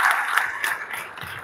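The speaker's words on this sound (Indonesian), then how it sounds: "mari kita beri tepuk tangan yang meriah untuk mereka" Brief burst of audience applause at a business forum in a conference hall, a dense wash of clapping that stays steady and moderately loud for about a second and a half.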